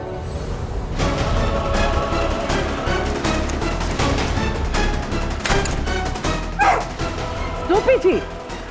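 A dog yaps and barks repeatedly in short bursts amid background clatter and voices, fairly close and loud.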